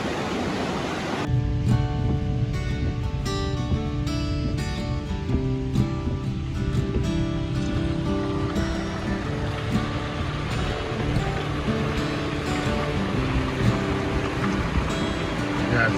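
A river swollen by the August 2023 flood in Maine gushes past a tent, a steady, loud rushing roar that begins after a brief pause and continues unbroken.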